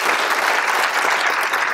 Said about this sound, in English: a round of applause for his military service.